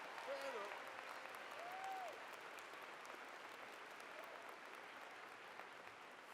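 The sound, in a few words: audience applause for the name readers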